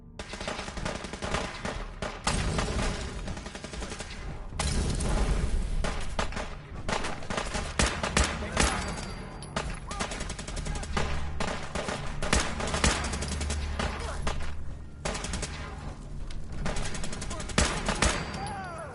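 Sustained gunfire from the video game Fallout 4 keeps going the whole time, with dense overlapping shots and machine-gun bursts. Distant voices sit under the gunfire.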